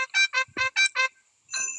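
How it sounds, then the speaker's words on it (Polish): A phone ringtone plays in a cartoon Christmas show, six short bright electronic beeps in quick succession, followed by a longer chime. "To telefon Madame Gazeli."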